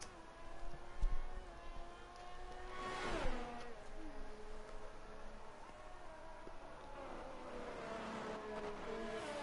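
A Haas Formula 1 car in a racing video game holds a steady, high engine whine on a lap at Bahrain, with a loud rising rev burst partway through and continuous tonal drone throughout, no speech.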